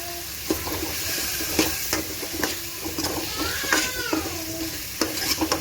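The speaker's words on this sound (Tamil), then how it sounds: "உருளைக்கிழங்கு சேர்த்து நல்லா கிளறி விட்டுக்கலாம்." Chopped potatoes sizzle in a pan with tomatoes for an egg curry while a spoon stirs them, bringing steady frying hiss and intermittent scraping knocks against the pan.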